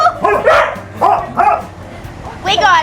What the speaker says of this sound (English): They're very noisy! Woof, woof, woof, woof!